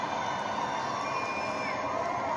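Crowd noise in Dublin just before a live show begins, a steady dense murmur of many voices with some raised calls, continuous and fairly distant with no single voice standing out.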